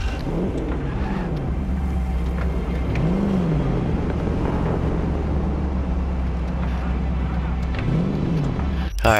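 A car engine in the Cyberpunk 2077 video game hums steadily and loudly for the whole stretch, with a few rising revs swelling over the drone and a sharp burst at the very end.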